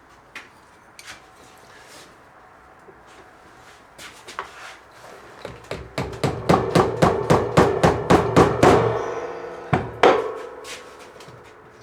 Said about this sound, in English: So I'm going to see if I can do it with this by hand hammering method.